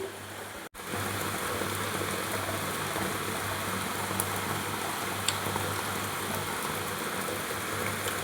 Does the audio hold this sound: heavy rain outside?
yes